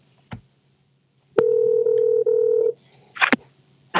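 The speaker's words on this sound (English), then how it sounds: "No, the call that is ringing." A telephone call comes in on a morning radio show, a clicking start followed by a steady electronic tone lasting over a second with brief breaks, then a few short clicks and bursts.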